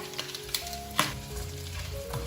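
Garlic and shiitake mushrooms stir-fried with pork belly in a wok, a bright hiss with a few sharp spatula clinks.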